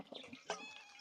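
A short cat meow, faint and close, repeated in a couple of soft rising calls within a single second, with no talk over it.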